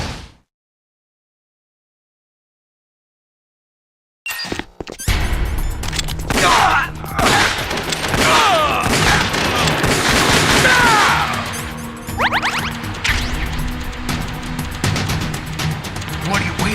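Gunfire in Metal Gear Solid: The Twin Snakes sets off dense bursts of shots and booming crashes after a few seconds of silence, loud and continuous, with voices talking over the battle.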